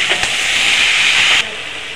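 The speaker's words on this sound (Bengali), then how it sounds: "মোচাটা দিয়ে দিলাম, ভালো করে নেড়ে চেড়ে মিলিয়ে নেবো সব একসাথে করে" Banana flower (mocha) being stirred in a hot cooking pan, giving a loud, steady sizzling hiss that drops off abruptly near the end.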